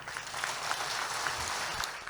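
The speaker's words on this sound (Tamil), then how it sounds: "ஒரு பலத்த கரகோஷத்தோடு தெரிவிச்சுப்போம்" Loud, steady applause from an audience at a Tamil debate forum (pattimandram) on marriage, dense clapping filling the short stretch without a break.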